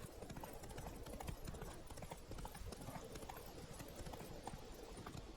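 Roach, the horse in The Witcher 3, gallops with a steady, rapid clip-clop of hooves, moderately close and continuous over a faint game ambience.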